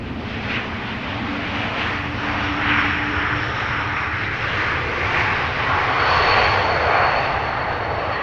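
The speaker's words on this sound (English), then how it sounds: "an Embraer 190 arriving from Stockholm will be following it" An Embraer 190 jet arriving from Stockholm at Amsterdam Schiphol produces a loud, steady jet engine roar that swells gently as it passes close by.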